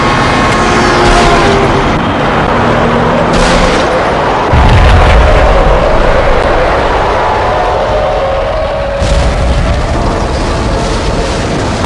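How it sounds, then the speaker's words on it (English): A bomb blast inside a slum tenement building in the game Max Payne lands as a heavy low boom partway through, its deep rumble rolling on under dense, continuous rubble and ambient noise, with further smaller impacts later. "Another bomb exploded inside the closest slum building."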